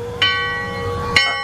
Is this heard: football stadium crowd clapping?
no